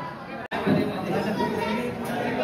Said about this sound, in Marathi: लोकांची गर्दी आहे गडबड